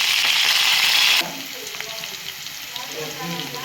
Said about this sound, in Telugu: తాలింపు పెడతాం. ఉల్లిపాయలు, పచ్చిమిరపకాయలు, కరివేపాకు,